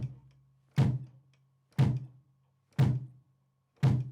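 Four heavy, evenly spaced thuds from a freshly assembled and tuned bass drum, each a deep punchy hit with a short decay, struck alone at a steady pace roughly once a second.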